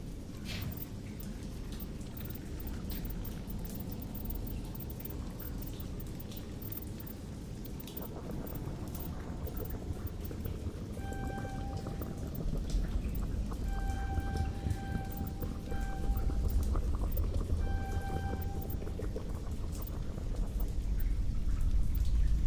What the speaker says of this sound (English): That water noise is the game because of where I'm at